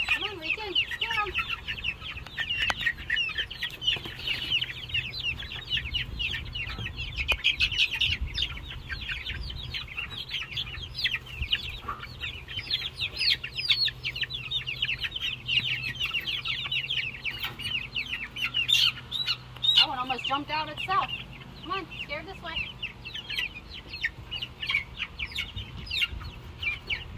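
Backyard chickens near a newly built chicken run cluck and squawk continuously, close and lively, with overlapping calls and a louder burst of cackling near the end.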